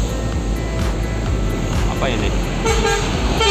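A Batu Mukti Putra intercity bus bound for Jogja passes on a busy morning road in Java, its horn tooting in repeated blasts over road traffic while a voice speaks briefly nearby.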